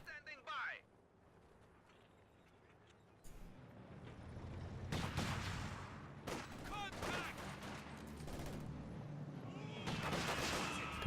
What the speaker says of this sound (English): Guards taking pot shots with their PTRS